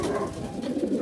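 Pigeons cooing steadily inside a Philippine racing pigeon loft, soft overlapping coos close by with a continuous low murmur of birds.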